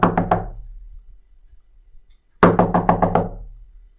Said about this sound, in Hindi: कौन है दरवाजे पर, अंदर आ जाओ।